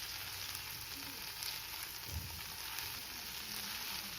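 Broccoli sautés with pecorino romano in a pan, giving a steady, soft sizzle and fry throughout, with a brief low stir or knock near the middle and no speech.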